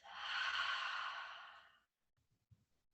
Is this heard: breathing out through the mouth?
yes